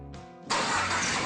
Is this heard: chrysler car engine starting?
yes